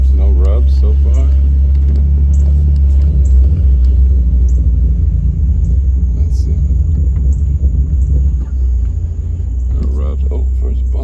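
A Nissan 350Z fitted with Rev9 Hyperstreet 2 coilovers rolls along the road, giving a steady, loud low rumble of engine and tyre noise throughout with a voice talking over it.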